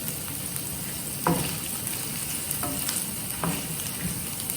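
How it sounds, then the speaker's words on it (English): Chopped tomatoes sautéing on high flame for a cashew masala gravy, a loud steady sizzle with a few spoon stirs and scrapes against the pan. "अब उसको अच्छे से सौते करिए"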